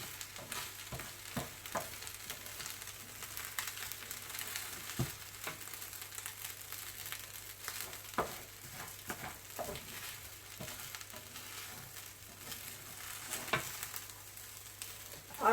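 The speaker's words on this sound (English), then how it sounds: "you can just slightly wash the pot and fry your rice in it" Rice frying in a lightly rinsed curry pot, a quiet crackle of scattered pops and ticks over a low steady hum, sparse and uneven.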